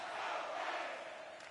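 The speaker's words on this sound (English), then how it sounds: "You can feel the energy in this crowd." A virtual hockey arena crowd in NHL 24 roars in a sustained, broad wave of cheering and shouting that fades slightly toward the end, heard somewhat distantly with little talk.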